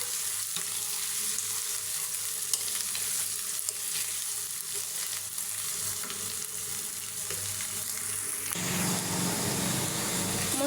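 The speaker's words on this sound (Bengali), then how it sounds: "মশলাটা 2 থেকে 3 মিনিট আমি ভেজে নেব।" Whole spices (cardamom, cinnamon and bay leaf) fry in hot oil for a chicken curry, a steady close sizzle running throughout with a brief stirring shift near the end and no talk.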